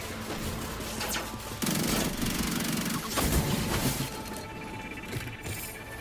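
A Warlock-specific submachine gun fires in Destiny 2 in rapid, sustained bursts, loud and dense, layered with other in-game combat noise and no voices.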